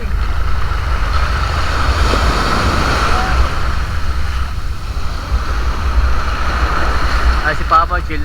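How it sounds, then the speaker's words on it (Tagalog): Heavy surf from strong sea waves off Pundaquit, Zambales roars steadily and close by, with wind buffeting the microphone and a brief voice rising near the end. "Ayun o, lakas ng alon."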